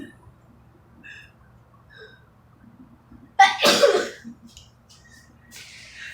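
A single loud sneeze bursts out in a quiet room, followed by a brief breathy exhale and a few faint noises.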